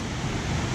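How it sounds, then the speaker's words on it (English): High Falls on a creek in Geraldine, Alabama pours in a loud, dense, steady roar of rushing water with deep rumble, unbroken throughout the brief moment. "how much water is actually coming over the fall part of this creek."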